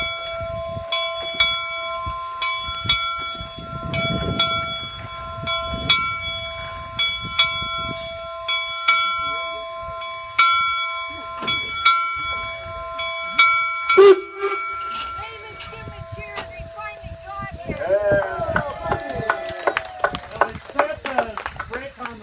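A steam locomotive arrives at Promontory Point, Utah, at a Golden Spike event, its bell clanging in a steady slow rhythm, then a sharp hiss and chuffing rumble, while a voice talks throughout.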